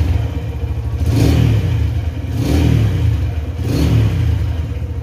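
A Honda Tiger Revo motorcycle is warmed up with three throttle blips. Each swells and falls back to a steady idle in a regular rhythm, close and fairly loud.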